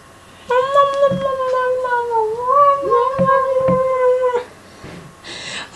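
A long, drawn-out wailing meow rises and wavers for several seconds, loud and close, with faint clicks and shuffling around it.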